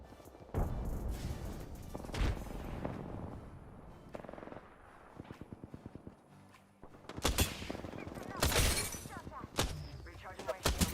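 Rapid bursts of automatic gunfire and scattered single shots crack through a video game squad battle, loud and close, alternating with quieter stretches and a voice talking.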